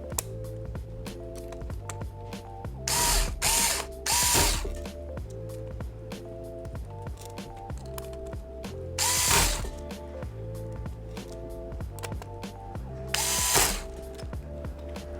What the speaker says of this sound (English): now you can put the screws back into the USB board, including the screw that goes into the hinge that's over top of it